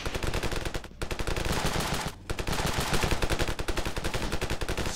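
Rapid automatic gunfire from the first-person shooter Ravenfield, loud and nearly continuous bursts filling the whole stretch with only two brief gaps.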